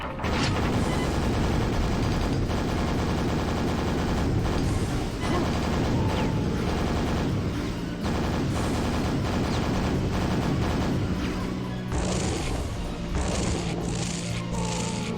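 Rocket launcher fire and explosions in the video game Quake, a dense, loud run of repeated blasts and booms with short gaps, heavy and continuous throughout with no talk.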